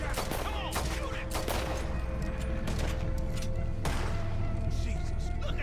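Gunfire in Red Dead Redemption 2: a rapid volley of shots cracks out close and loud, with more bursts through the stretch, over game ambience while voices shout.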